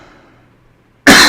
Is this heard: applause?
no